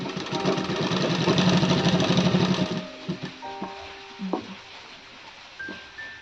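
An electric sewing machine stitches pleats into a kaftan nightie, running in a fast, steady rattling hum for about three seconds, then stops, leaving a few faint clicks and taps.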